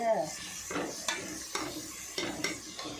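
Onions and tomatoes sautéing in a pan for goat leg soup, a low sizzle under a regular rhythm of spatula scrapes and light taps against the pan, close by.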